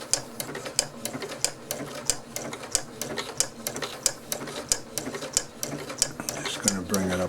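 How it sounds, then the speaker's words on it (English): A Janome 8077 sewing machine stitches fabric in a fast, steady run of rhythmic clicking needle strokes close by, with someone talking over the mechanical hum. "Now you allow the fabric to be turned by the machine."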